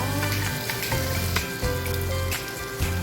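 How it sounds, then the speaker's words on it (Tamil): Mutton pieces frying in masala while being stirred, for a pressure-cooker mutton biryani: a steady, dense sizzle fills the clip close up, with a few brief scraping stirs on top and no voices. "கொஞ்சம் நேரம் இறைச்சியை நல்லா மசாலாவில் கிண்டுணும்"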